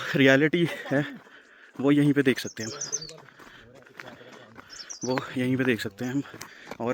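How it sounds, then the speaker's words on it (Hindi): Small birds chirp lightly on a mountain trek trail near Karol Da Tibba in Solan, with thin high tweets scattered beneath someone talking close up for most of the stretch. "ये देखो चिड़िया की कितनी प्यारी आवाज़ आ रही है।"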